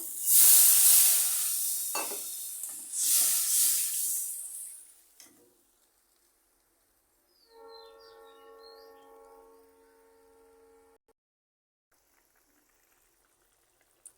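Jackfruit curry sizzles and hisses in a hot pan as it is stirred, loud bursts of frying at first that fade and die away, followed by a brief faint tonal ring and near silence.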